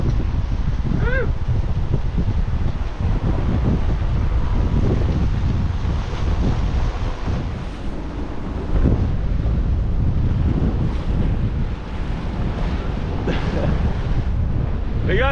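Strong wind and breaking whitecap waves roar continuously around a sailboat sailing close hauled with a reefed main, loud and steady buffeting throughout with no talking.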